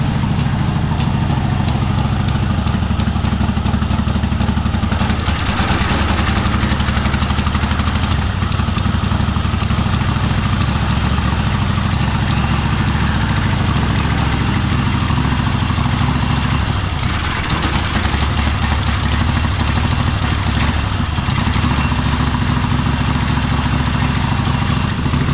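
Kohler engine on a Cub Cadet Super-LT1554 lawn tractor, oil-covered with a leak, running on two cylinders: a steady, loud, close idle with a deep low throb, holding constant for the whole stretch with slight wavering and no talk.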